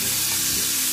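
Salmon and asparagus sizzle steadily in a frying pan while being stirred, a continuous close frying hiss with soft scraping movement throughout.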